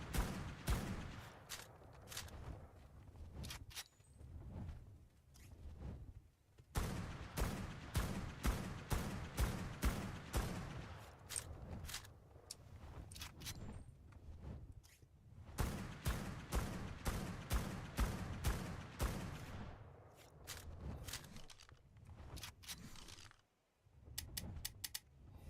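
Gunfire in Ark Survival Ascended rings out in rapid repeated shots, clustered into several sustained bursts with short pauses, moderately loud against a quiet background.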